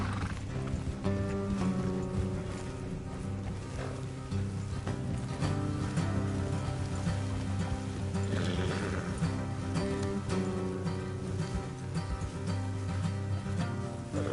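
Horses in the video game Red Dead Redemption 2 whinny and hooves clip-clop steadily over a dense, continuous game soundtrack, with no talking.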